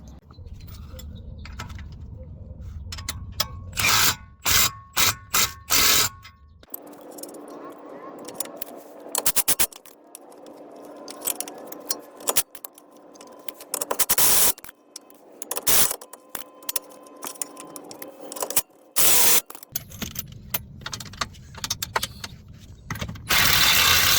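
Control arm bolts on a 2016 Nissan Altima being torqued with a wrench give repeated bursts of ratchet clicking and metallic clatter, separated by short quiet pauses, close and fairly loud.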